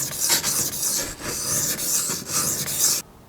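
A damaged Benchmade 940 knife blade scrapes against a sharpening stone in steady, close rasping strokes, roughly five or six passes with brief pauses between them, ending abruptly in near quiet.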